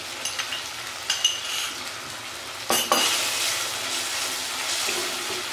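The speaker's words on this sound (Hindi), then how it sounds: "अब अदरक लहसुन के पेस्ट में मैं इसको तकरीबन 2-3 मिनट भूनूंगी।" Chicken frying with ginger garlic paste for saag gosht sizzles steadily in a pan, with scraping stir strokes and a couple of louder clatters, close and fairly quiet.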